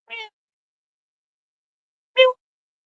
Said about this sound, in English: Meow. Yeah, here he is. It's a cat.